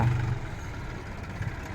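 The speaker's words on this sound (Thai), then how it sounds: "ทางเจ้าภาพเพิ่นให้รถไถมาเกตพื้นที่ให้ค่ะ" A farm tractor running steadily while levelling ground at an event site in Roi Et, a continuous low engine drone heard from moderate distance with no talk.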